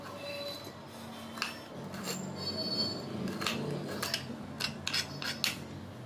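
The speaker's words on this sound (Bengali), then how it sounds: "তো এইভাবে সরু সরু করে আমি কেটে নিচ্ছি" A knife slicing spiny gourd (kantola) into thin strips on a board, giving soft repeated scraping cuts and light taps, fairly quiet and close, with no talking.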